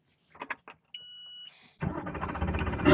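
A Mercury 200hp Pro XS V8 4.6L four-stroke outboard starts after a few clicks and a brief tone, then runs with a loud, dense, steady rumble that rises slightly toward the end.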